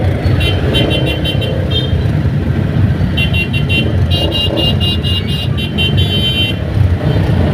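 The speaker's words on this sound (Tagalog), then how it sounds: "Sige kayo ng busina," Car horns honking in congested traffic, repeated short bursts and longer blasts from several vehicles over a loud, steady roadway rumble, close by.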